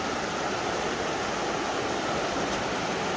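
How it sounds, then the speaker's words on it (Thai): A strongly flowing, muddy river swollen by rainy-season rain rushes beneath a village footbridge, a loud, steady, broadband roar of churning water filling the whole stretch without a break. "น้ำไหลแรงอยู่ น้ำสีขุ่นๆช่วงหน้าแล้งน้ำจะใสมาก ช่วงนี้ฝนจะตกชุบหน่อยก็เลยน้ำจะขุ่น น้ำก็เยอะขึ้น"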